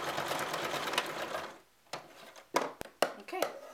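A sewing machine stitches and backstitches fabric pieces for a children's Olympic-rings puzzle. A steady, close run of stitching stops, then gives way to several short, separate bursts.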